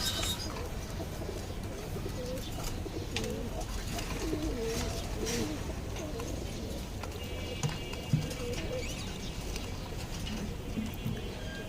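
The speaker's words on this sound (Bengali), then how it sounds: "এই কিন্তু আমাদের কবুতরগুলো," Pet pigeons cooing steadily in a home coop, soft low coos repeating over a busy background with occasional clatters, heard nearby.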